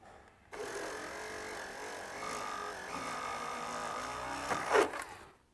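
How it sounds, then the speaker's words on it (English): A small drill with a 1/16 inch bit whines steadily while boring through a fiberglass aircraft cowl, a close continuous motor hum with shifting pitch, then a brief burst of louder grinding as the bit breaks through before stopping. "you'd use a 16th inch drill bit for this next step"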